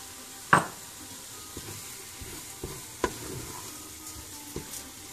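Toasted almonds are stirred in a pan for a chicken pastilla over a soft steady sizzle, with a spoon scraping and clinking against the pan in scattered light knocks, close and without talk.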